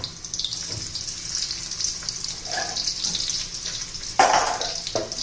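Garlic dropped into hot oil in a kadhai sizzles with a steady hiss, growing louder with bursts of crackle toward the end, heard close and alone.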